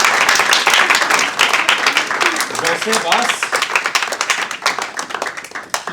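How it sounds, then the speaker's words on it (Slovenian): Audience applause at a charity auction and art exhibition, dense clapping from a crowd that holds strong for several seconds and then thins out, with a voice speaking over it. "Dajmo še enkrat zelo velik aplavz za vse naše umetnike"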